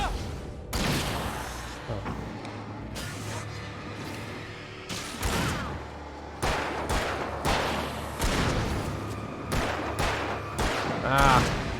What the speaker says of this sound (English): Trying to shoot that guy.